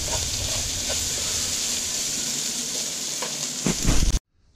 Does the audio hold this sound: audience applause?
no